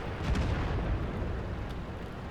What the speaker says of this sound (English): That was the Conk that just fired.